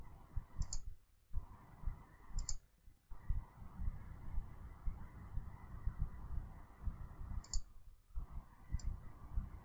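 Sharp computer mouse clicks in the Scratch editor come in four quick, crisp pairs scattered across the span over a steady low room hum and muffled background noise.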